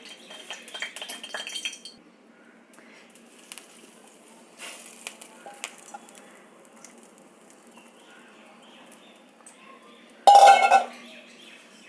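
Chopped chayote tipped into a pot of cooked moong dal, with soft clinks and rattles of utensils scattered through quiet stretches and a louder burst of clatter near the end, no voices.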